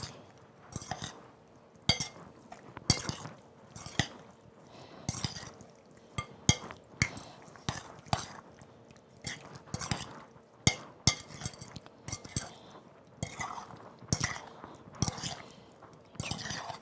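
Ingredients being mixed in a bowl in a home kitchen, a metal utensil clinking and scraping against the bowl in a steady irregular rhythm of close, crisp taps over a quiet background.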